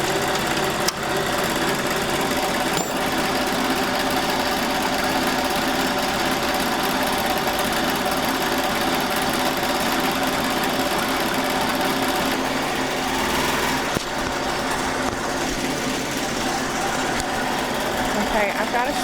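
Embroidery machine stitching 3D puff on a hat in a hat frame: a loud, continuous rapid mechanical chatter of needle strokes, steady throughout with small shifts in tone.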